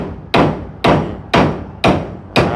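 A hammer drives nails during house carpentry work with five loud, evenly spaced strikes about half a second apart, each ringing briefly before the next blow, with no talking.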